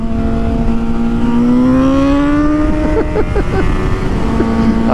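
A motorbike engine revs hard and climbs steadily in pitch during a race, loud and close, its drone rising over several seconds before a few sharp gear-change dips.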